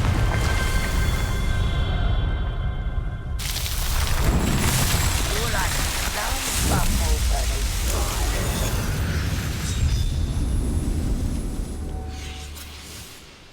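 Booming magical blasts from the Confringo spell in Hogwarts Legacy, loud rumbling explosions with bursts and crackling debris rolling through the scene, fading out at the end.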